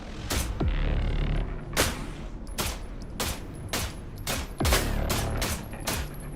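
Rifle fire in the game The Last Caretaker: about a dozen loud, sharp shots in an irregular rhythm, each with a short booming tail, close and without speech.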